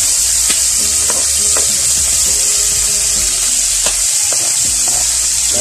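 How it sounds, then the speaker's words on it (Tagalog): Squid sautés with garlic in a hot pan for adobo, sizzling loudly and steadily, with scattered clinks and scrapes of stirring and no speech. "Tapos gigisahin na natin siya."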